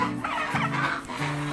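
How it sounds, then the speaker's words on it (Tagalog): Turkeys in a backyard with free-range chickens, giving repeated low, throaty clucking gobbles in short bursts, fairly close and loud, with no voices. "Mga pabo natin, medyo may ingay lang talaga sila."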